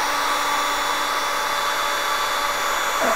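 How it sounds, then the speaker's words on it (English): A Mastercraft heat gun blows hot air in a loud, steady, unbroken whoosh held at close range for the whole stretch. "I'm using this heat gun, Mastercraft from Canadian Tire."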